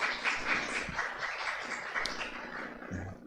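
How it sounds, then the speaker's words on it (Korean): Church congregation applauding after a member's testimony during a Sunday service, a broad wash of clapping that holds fairly steady for a few seconds with a faint low murmur beneath. "우리 박수 한번 해주시죠"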